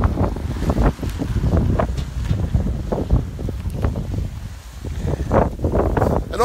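A hailstorm driven by wind, with gusting rush and pattering bursts of hailstones coming in waves, loud and continuous.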